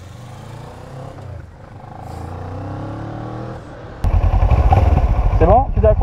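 Motorcycles idle with a low engine drone, then roar off abruptly at about four seconds into a loud, rumbling pull-away, with a voice briefly heard over the engines near the end.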